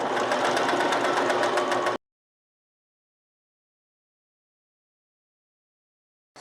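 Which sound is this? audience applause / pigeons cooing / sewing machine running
sewing machine running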